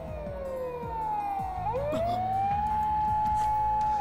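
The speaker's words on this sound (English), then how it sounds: "a shrill siren shatters the night" A police patrol car siren in the Steins;Gate video game at night, a loud wailing tone that sweeps up and down and then holds high, continuous over a low rumble.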